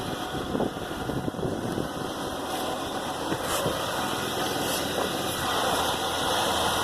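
A Chevy car engine runs steadily just after being started, a constant low rumble with some wind noise over it and no speech, holding an even level throughout.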